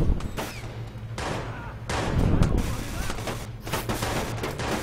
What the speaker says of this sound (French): J'entends des coups de feu, envoyez quelqu'un.